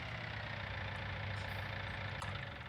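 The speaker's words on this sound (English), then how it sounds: "I'm just gonna park this tractor here" Tractor engine idling in the Farming Simulator 19 video game: a steady low rumble that stays continuous and fairly quiet, with no voices throughout.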